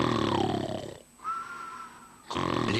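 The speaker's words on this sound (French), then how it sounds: "Les ronflements gâchent vos nuits?" Loud snoring in a French television advertisement for an anti-snoring oral treatment, with deep rasping snores at the start and end around a quieter breathing pause with a faint whistle.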